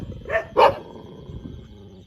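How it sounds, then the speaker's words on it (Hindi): A dog at a village home barks twice in quick succession, sharp and close, at another dog; a low, quiet background follows. "कुत्ते को देखकर भौंक रहा है।"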